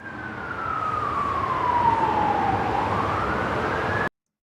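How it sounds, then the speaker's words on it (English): A police siren wails in a single slow sweep, gliding down in pitch and then climbing back up, loud and steady over a broad noisy background before cutting off abruptly. "And the siren of the police,"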